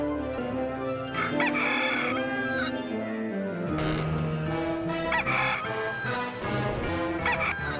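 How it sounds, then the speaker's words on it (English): A rooster crows from a TV show, its calls rising over a continuous bed of music that runs loud and steady throughout. "Every day the rooster crows, Joxer walks in"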